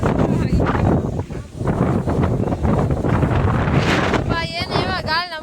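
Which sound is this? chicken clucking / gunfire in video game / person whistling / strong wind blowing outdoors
strong wind blowing outdoors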